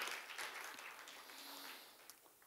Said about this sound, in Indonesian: kita berikan tepuk tangan yang meriah buat Tuhan Yesus